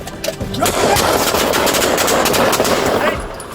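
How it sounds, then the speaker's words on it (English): A rapid, loud volley of gunshots rattles off in quick succession for a few seconds during a police confrontation ending a pursuit, sharp and close, fading slightly at the end. "Gunfire erupted, ending the pursuit in just a few seconds."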